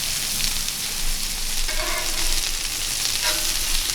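Blackened crappie fillets sear in hot oil with a steady, close frying sizzle, swelling into a brighter crackle now and then as the pan keeps cooking, with no voices.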